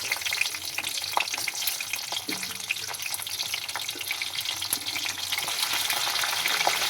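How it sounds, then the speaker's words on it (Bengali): Bay leaf and green chilli hit hot oil for tempering. A dense, close crackling sizzle runs throughout, with occasional stirring clinks and no talk. "তেলটা দেখো গরম হয়ে এসেছে। এবার ফোড়ন দেবো তেজপাতা, কাঁচা লঙ্কা,"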